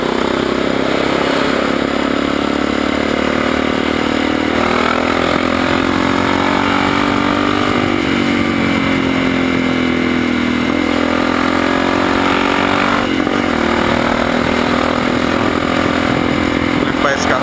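A Honda NX4 motorcycle with a carburetor due for cleaning, ridden at about 60, gives a steady, loud mid-pitched engine drone with slight pitch swells throughout, and a rider talks over it.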